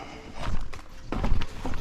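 Horse hooves clip-clopping in quick, uneven steps close by, with a kick or two mixed in, on a street in Topes de Collantes, Cuba.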